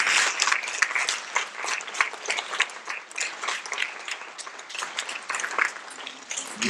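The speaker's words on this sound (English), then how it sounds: "Let's give them another round of applause." An elementary school audience at a fifth-grade Willy Wonka KIDS performance claps for the student performers, a moderately loud, uneven patter of many hands continuing throughout.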